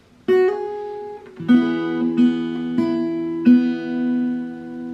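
Plucked fingerstyle guitar melody from "How Deep the Father's Love for Us" rings out alone, a few picked tones and sustained chords layering in slow succession, moderately loud with no talking.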